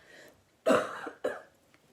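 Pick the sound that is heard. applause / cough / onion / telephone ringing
cough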